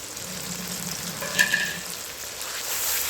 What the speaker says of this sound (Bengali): মশলাটা দিয়ে আমি ভালো করে কষিয়ে নেব।